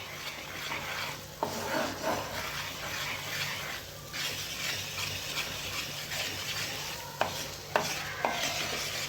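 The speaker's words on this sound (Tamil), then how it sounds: "நமக்கு இந்த கோதுமை மாவு நெய்யில் நல்லா வறுபடணும்." Wheat flour roasts in ghee for a moong dal halwa, a continuous soft sizzle with steady scraping strokes from stirring and a few sharp clicks of the spoon against the pan, no speech.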